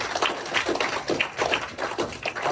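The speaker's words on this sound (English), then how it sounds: "big round of applause," Audience applause at a political conference on polarization and democratic backsliding, a dense patter of claps filling the room steadily for a few seconds with no talking.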